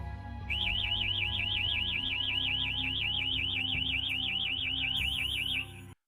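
A security alarm wails continuously with a rapid warbling electronic tone, loud and steady for several seconds before cutting off abruptly.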